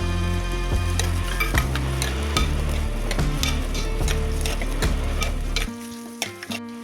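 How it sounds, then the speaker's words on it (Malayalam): Sliced onion sautés in a pan for a sardine curry, with a loud continuous sizzle and frequent scraping stirs from a utensil. The activity drops to quieter, sparse clinks near the end. "ഇനി ഇതിലേക്കൊരു വലിയ സവാള നീളത്തിൽ അരിഞ്ഞത് കൂടി ചേർത്തൊന്ന് വഴറ്റിയെടുക്കാം."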